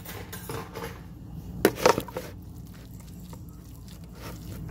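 Chili is mixed into chicken in a bowl for tamales with a short burst of wet squishing and scraping clinks near the middle, close and fairly faint against a quiet kitchen background.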